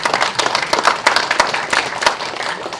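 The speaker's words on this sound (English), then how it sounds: "Round of applause" An audience at a food systems panel event gives a round of applause, a fairly close, uneven patter of many hands clapping with sharp individual claps standing out, no voices over it.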